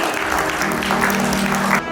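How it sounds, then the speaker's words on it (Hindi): At a naming-ceremony party, the audience claps in steady, dense applause that fills the room, while a voice talks faintly underneath. "तो एक बार जोरदार तालियों से सिसोदिया को भी हम प्यारा सा अभिवादन दे दें।"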